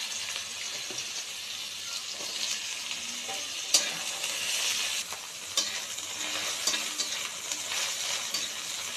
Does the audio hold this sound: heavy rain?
no